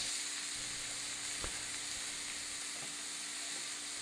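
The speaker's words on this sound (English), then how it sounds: "Add the 1/2 pound of ground turkey to the hot oil in the skillet and brown" Half a pound of lean ground turkey browns in hot oil in a skillet, giving a steady, loud sizzle and hiss throughout with a faint scrape near the middle.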